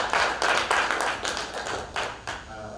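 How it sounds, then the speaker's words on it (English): A small crowd claps steadily for a few seconds, a brisk patter of hands that thins out toward the end. "Let's give him a round of applause."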